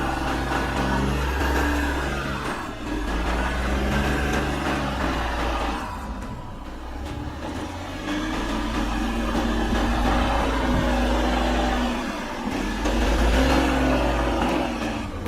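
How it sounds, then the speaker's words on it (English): An Audi Q8 SUV engine drones and revs under load on a steep climb while its wheels slip, the sound a loud, sustained mid-pitched growl that rises and falls throughout. "Now the climb goes steeper and the wheels start slipping more."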